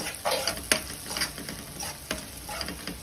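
Vegetables with ginger for momos fry in a pan, a close, steady sizzle broken by sharp clinks and scrapes of a spoon stirring against the metal.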